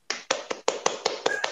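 A few sharp, close hand claps from one person in a quiet indoor interview setting, spaced irregularly over a second and a half with no talk over them.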